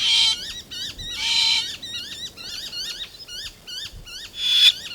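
Repeated sharp, piping noisy miner calls in quick rhythmic bursts, with a few harsher squawks mixed in, close and fairly loud.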